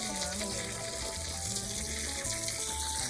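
Running water rinses and churns sand clean of orange, tea-coloured silt before planting caladiums, a steady close wash of splashing and trickling with no talk.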